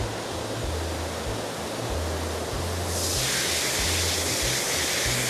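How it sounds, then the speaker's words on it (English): A loud, big waterfall at Mystic Falls Park inside Sam's Town, Las Vegas, roars as a steady, dense wash of water close by, with a low repeating hum beneath and the rush growing brighter partway through. "the big draw is this really loud and really big waterfall"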